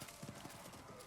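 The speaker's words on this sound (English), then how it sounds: "Meve spurred her horse. It neighed and reared" A horse's hooves clopping rapidly on the ground with a neighing whinny as it rears during a battle in the fantasy card game Thronebreaker: The Witcher Tales, close and steady over a brief moment.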